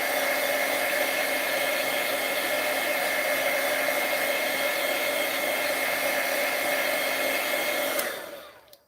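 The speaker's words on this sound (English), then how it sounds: "We are going to heat this up to make sure that it's dry." A heat tool dries copper embossing powder with a steady, close blowing roar that runs unbroken for about eight seconds, then cuts off and fades to quiet.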